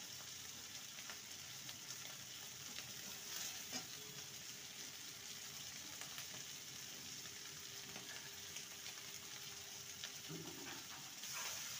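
Bean curry stirred and frying in a pan, a steady soft sizzle running throughout with occasional scrapes of the spoon, close and even, no talking.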